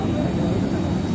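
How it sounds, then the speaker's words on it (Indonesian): A Garuda Bombardier airliner's engine roars steadily at an airport, a loud continuous whine and rumble that fills the whole moment without a break. "kita akan menggunakan Garuda, pesawat Garuda dengan pesawat tipe Bombardier"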